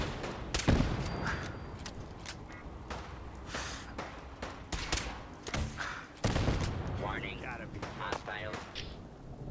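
Gunfire aimed at scavengers in Fallout 4, scattered booming shots and impacts at irregular intervals, moderately loud, mixed with a voice talking and gasping.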